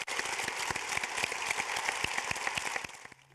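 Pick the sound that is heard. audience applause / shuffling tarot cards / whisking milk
audience applause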